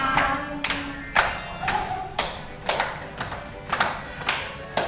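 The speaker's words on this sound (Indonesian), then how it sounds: "semuanya berdiri sambil tepuk tangan" A class of schoolchildren standing and clapping together in rhythmic bursts, about nine sharp claps spread evenly, close and moderately loud in a classroom.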